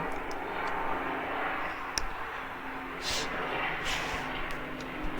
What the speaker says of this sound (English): there's a chopper going by.